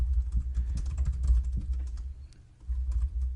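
Rapid clicking keystrokes on a computer keyboard, close and fairly quiet, come in a dense burst, pause briefly, then resume with a few more taps.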